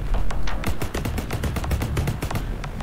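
Rapid gunfire bursts in the PC shooter Gene Rain Wind Tower, a dense run of sharp cracks fired in quick succession, loud and close without any voice over them.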